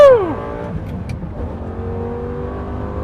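A manual Lamborghini Gallardo accelerates hard up an on-ramp, its engine note falling sharply as it shifts gears before settling into a steady loud roar.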